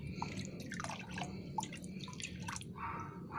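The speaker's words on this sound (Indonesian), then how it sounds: "Kita aduk biar merata." Fungicide mixture stirred in water for Aglaonema plant care, giving soft liquid drips and sloshing clinks scattered over a steady low background hum, close and fairly quiet.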